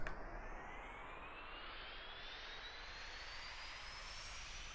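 An Alpha Jet in X-Plane 11 spools up, a broad jet roar with a thin rising whine climbing steadily in pitch, steady and moderately loud with no voices.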